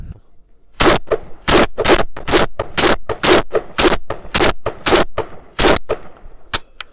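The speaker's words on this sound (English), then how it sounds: "Let's fire a few shots already." Single AK-47 rifle shots fired one at a time, about a dozen sharp loud reports in an irregular, fairly quick rhythm, each with a short ringing tail, close to the listener and alone without talk.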